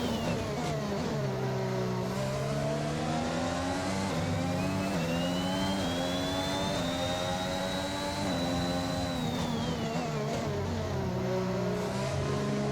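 Onboard sound from Daniel Ricciardo's Formula 1 car during a race: a loud, high engine whine that climbs and falls steadily through upshifts and downshifts, dominating throughout with no voices.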